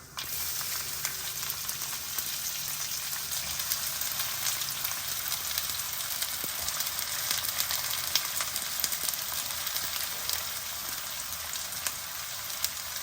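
Cumin seeds and onions frying in hot oil for an egg pulusu, a loud, continuous close sizzle with a faint crackling texture and no voices.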